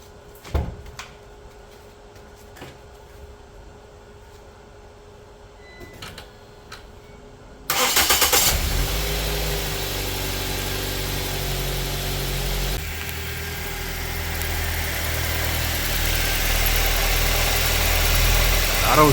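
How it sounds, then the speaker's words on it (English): A Ford Transit with a weak battery sits quiet with a few clicks and knocks, then cranks and catches abruptly, settling into a loud, steady close idle. "I'm going to go ahead and crank it up now."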